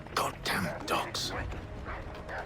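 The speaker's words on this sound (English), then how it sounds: "Goddamn dogs." Dogs in the video game Assassin's Creed III bark and yip in short, repeated bursts, close and fairly loud, mixed with game voices and background noise.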